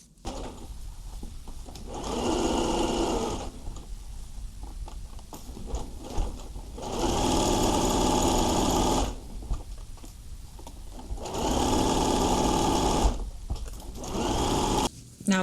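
A sewing machine stitches a side pocket on a teen dress in three sustained runs of rapid, whirring needle hum, each lasting a couple of seconds, separated by quieter pauses of handling fabric; close and loud, no talk.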